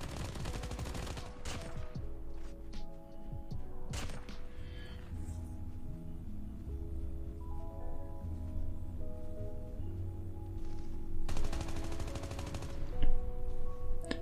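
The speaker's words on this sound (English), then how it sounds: "Dang, I keep on missing my shots on that dude." Call of Duty gunfire in a solo-versus-squads match, with bursts of rapid automatic shots at the start, around four seconds and again near the end, mixed with game tones and effects.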